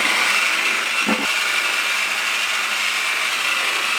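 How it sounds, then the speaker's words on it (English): A power polisher buffing a Porsche 996 Turbo part, a loud continuous close whine that holds steady throughout, with a brief dip in the middle as the tool shifts on the surface. "All I have to do is buff it."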